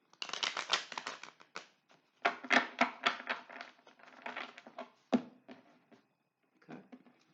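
A tarot deck is shuffled close by in quick bursts of crisp card riffling and slapping, with short pauses, and the sound trails off into scattered single taps.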